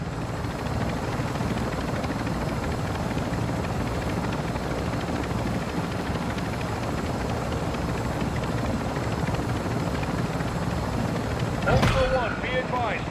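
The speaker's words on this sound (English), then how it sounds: "Ultra Helo is fueled and spinning up." Helicopter rotor spinning up in Call of Duty DMZ, a steady dense thrumming drone that holds for the whole stretch, with a brief swell near the end.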